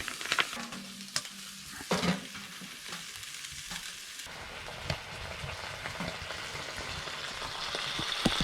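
Hash browns and bacon frying in a pan on an ice fishing trip in Labrador, with a steady sizzle and crackle broken by occasional scrapes and stirring clatters, close and moderately quiet.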